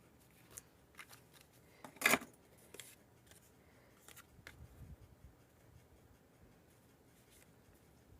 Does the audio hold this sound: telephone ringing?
no